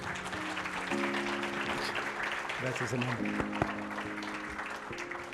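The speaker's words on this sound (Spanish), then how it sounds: "un fuerte aplauso para ellos" An audience at a panel discussion on false witness memories in arbitration applauds, a steady, fairly quiet wash of clapping that runs throughout while people speak briefly over it.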